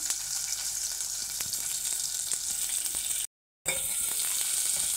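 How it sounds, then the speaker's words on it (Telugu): Onions fry with pulao masala in a pan for small-prawn pulao, giving a steady, close hiss of sizzling with faint stirring ticks and a brief silent cut partway through. "నేను ఆనియన్స్ కూడా వేసుకున్నాను ఫ్రెండ్స్. అవి కొంచెం బ్రౌన్ కలర్లో వేగాలి."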